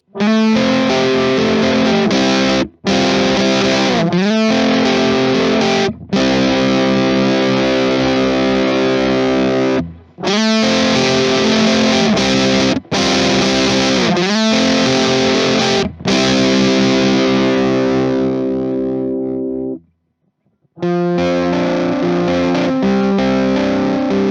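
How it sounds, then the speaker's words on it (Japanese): An electric guitar played through an Earth Quaker Devices Hoof fuzz pedal with its gain turned up gives a loud, thick, saturated tone. Sustained chords and notes ring out in several phrases, broken by brief pauses. "ゲインを上げると歪みとともに倍音が増してエッジが立ちますね。"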